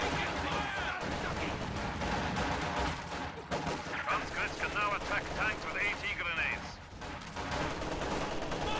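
Machine gun fire crackles in rapid bursts amid a dense real-time strategy battle, mixed with other gunshots and explosions at steady loudness, with a commentator talking over the action.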